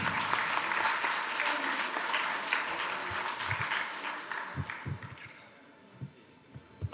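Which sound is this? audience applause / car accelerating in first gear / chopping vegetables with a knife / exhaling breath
audience applause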